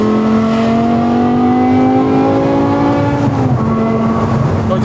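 BMW M6 with a V10 engine and full titanium exhaust, revving loud and close with a steady high-pitched howl whose pitch climbs and then dips near the end, no talking.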